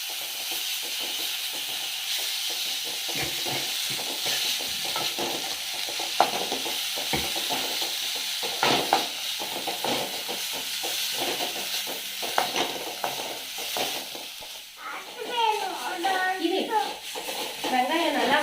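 Ground onion and ginger paste frying in a pan with garlic, a steady hiss and sizzle with frequent stirring scrapes, while a voice talks intermittently over it near the end.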